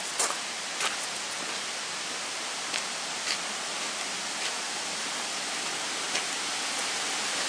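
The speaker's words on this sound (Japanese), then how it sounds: "こんな水の音するの聞くの初めてやね。" Steady rushing water fills the whole stretch, a continuous broadband hiss of a river swollen after rain in a Japanese village, with a few faint clicks on top.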